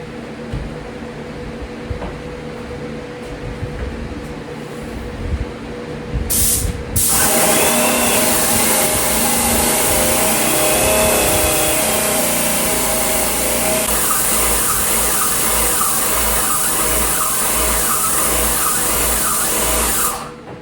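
A paint sprayer applies drywall primer to a ceiling, its loud continuous hissing spray starting abruptly after a quieter motor hum and holding steady and close until the end, with no talk.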